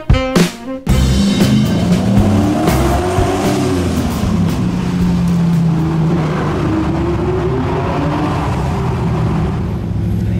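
A TVR sports car drives along the road toward Monaco with a loud, steady engine drone and tyre roar, a few sharp knocks at the start, then engine pitch rising and falling gently as it cruises.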